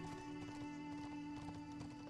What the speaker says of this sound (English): Definitely a horse in the side of that wall.